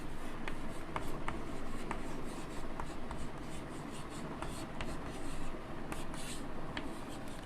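Writing on a board in a lecture, faint scratchy strokes tapping in an irregular rhythm over a steady hum of room noise.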